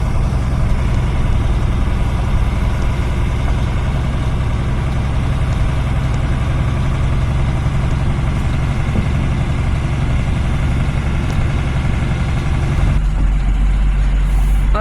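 A truck, nicknamed Gribouille, on the move, its heavy engine holding a loud, steady low rumble and drone throughout, shifting in tone near the end, with no talking.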